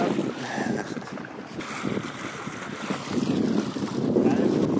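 A fishing boat's outboard motor runs at speed on the Colorado River near Martinez Lake, a rough, steady drone half-buried under gusting wind buffeting the microphone and splashing water.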